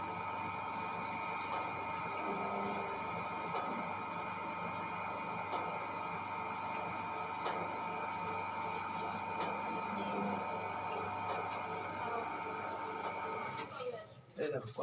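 Dough sheeting machine rolling out a sheet of luchi dough on a polythene belt, a steady close mechanical whir and rumble that runs continuously before stopping abruptly near the end.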